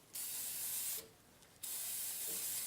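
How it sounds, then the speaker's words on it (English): An aerosol can of Minwax clear satin finish sprays onto a hot metal shop specimen in two close, loud hissing bursts separated by a short pause. "if I spray the Minwax clear satin when that dries, it'll look very similar to hot waxing"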